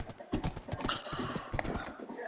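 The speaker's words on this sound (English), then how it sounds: "No, my horse is drowning! Come on, horsey." Horse in the Minecraft video game, clip-clopping hooves with a short whinny, steady and close, over a busy game background with no talk.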